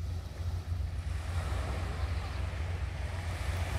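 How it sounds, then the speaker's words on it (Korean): Ocean surf rolls steadily along Korea's south coast at a summer getaway spot, a continuous broadband wash of breaking waves mixed with wind buffeting the microphone, with no pauses. "파도 소리 시원하니"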